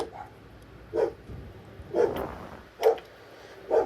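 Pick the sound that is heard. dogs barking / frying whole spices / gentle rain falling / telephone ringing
dogs barking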